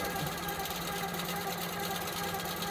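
A longarm quilting machine stitching fast, a steady close mechanical whir with a rapid needle rhythm running continuously without pause.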